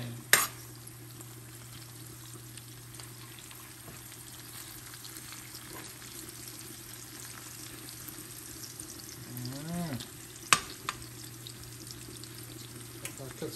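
Curry goat fries in a pot outdoors after dark, giving a steady low sizzle throughout, with a couple of brief clanks from stirring and a faint voice now and then.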